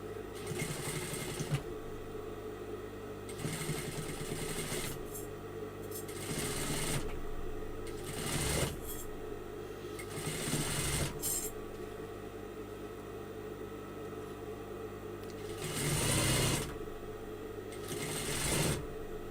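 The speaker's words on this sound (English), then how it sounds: "So how to sew this is that you actually just sew on top of the seam allowance." A sewing machine stitches along the seam allowance of fabric in repeated bursts of rapid mechanical whirring, each run lasting a few seconds and separated by short pauses, close and steady.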